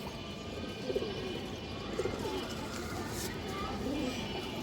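Faint, low pigeon coos from a collection of Giribaz pigeons sit beneath steady background noise, with a voice talking over them.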